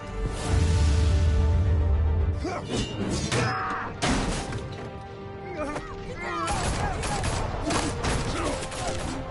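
Gunfire in the Telltale Batman video game, a loud rattling fusillade of shots with crashes and impacts, mixed under shouted voices and dramatic game music.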